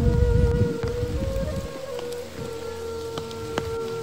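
Rain pours down in a village, heavy and dense at first, then easing into a steady patter with scattered distinct drops.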